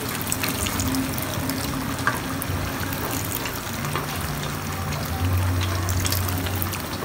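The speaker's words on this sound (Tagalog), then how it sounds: "So mag-add na po tayo ng gata." Coconut milk pours steadily into a pot of Bicol-style laing with santol fruit, a continuous close liquid rush running unbroken.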